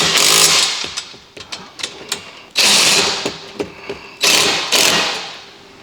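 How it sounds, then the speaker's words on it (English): Bolts being tightened during wheelbarrow assembly: several loud bursts of whirring, rattling power-tool noise alternate with short sharp clicks and knocks, close by with no talking. "Now all I need to do is tighten these bolts."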